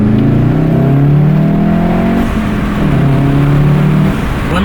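A 2019 VW Golf R fitted with an MST Performance intake pulls hard in second gear, its engine note rising in pitch, then briefly dipping at a shift before climbing again, loud and close.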